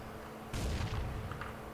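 Gunfire in a video game, aimed at an APC Puma armored vehicle: a sudden loud burst of shots that breaks the quiet and then trails into a rumbling decay.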